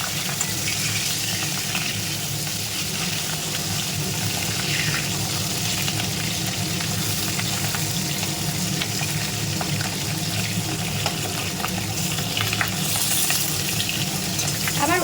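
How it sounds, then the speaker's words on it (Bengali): Pieces of katla fish frying in a pan of oil, a steady, dense sizzle with watery crackle that runs loud and unbroken throughout, with no talk. "পিঠটা ভাজা হয়ে গেলে মাছ ভাজা কমপ্লিট হয়ে যাবে"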